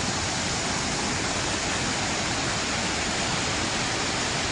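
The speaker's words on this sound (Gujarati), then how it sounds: "જમજીરના ધોધનું વિકરાળ રૂપ" Jamjir waterfall in full monsoon flow after heavy rain, a loud, unbroken roar of crashing water filling the scene evenly from start to finish.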